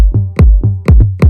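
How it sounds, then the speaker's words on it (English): Deep electronic tom sample from the Tantra pack in an Afro House beat, repeating in a steady groove of low, booming hits with sharp attacks and pitch-dropping tails, interleaved with brighter accented hits, loud and dry with no voices. "For that I'm using a tom sample from our pack Tantra"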